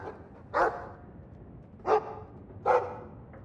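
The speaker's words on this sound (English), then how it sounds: "He's a sweet dog, Hawk." A dog in the video game Dragon Age II gives three short barks, the first two spaced apart and the last two closer together, loud and close over a low ambient rumble.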